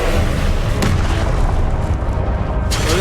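Expelliarmus spell cast in Hogwarts Legacy, a dense booming magical blast with a sharp burst near the start and another near the end over a loud rumbling combat bed, no talking.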